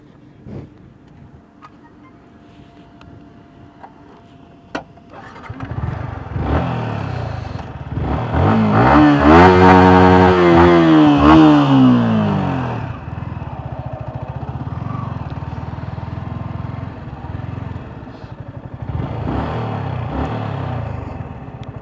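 A 2022 Yamaha R15M motorcycle engine starts and revs up close, climbing to a loud, rising whine in the middle before settling back to a steady, lower idle-like drone.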